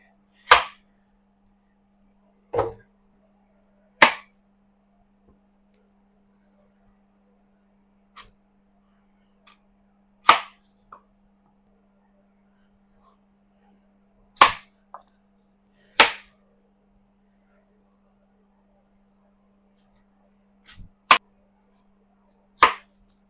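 A knife cuts vegetables into julienne strips for a wagyu steak dish in a home kitchen, giving scattered sharp chops against a cutting board, a dozen or so irregular strikes spread apart with quiet gaps and a low steady hum underneath.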